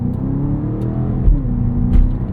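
A 2024 BMW X6M Competition engine revving out to 5,000 RPM, a loud continuous rising drone heard close from inside the car, with a couple of brief thumps along the way.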